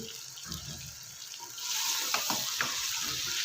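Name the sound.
mutton frying in cooker with yogurt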